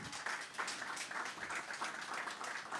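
Audience at a talk on LGBTQ+ activism in Chicago applauding: a fairly faint, steady patter of many hands clapping, continuous and even for the whole stretch.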